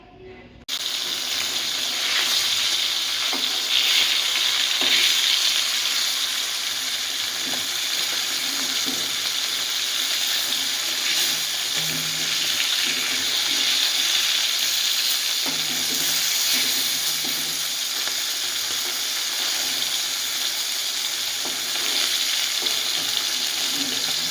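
Fish coated with salt and turmeric fries in hot oil, giving a loud, steady, continuous sizzle that starts suddenly and holds evenly for a long stretch, with faint kitchen clatter underneath.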